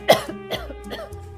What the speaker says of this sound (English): Is that a continuous cough there?